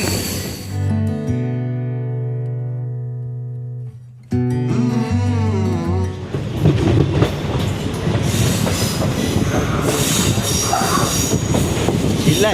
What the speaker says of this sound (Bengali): আর এই মালবাজার স্টেশনের আমাদের এই ট্রেনের হল্ট হচ্ছে এক মিনিট